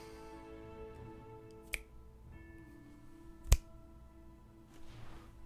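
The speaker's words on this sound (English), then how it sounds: "But I mean, there is clapping in my ear." Two sharp, isolated claps come through a headset about two seconds apart over a faint steady hum, with no talking.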